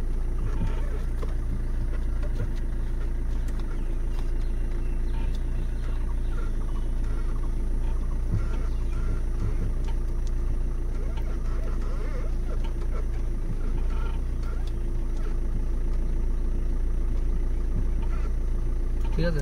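A car engine running steadily as it is driven, a constant low rumble and drone throughout the clip.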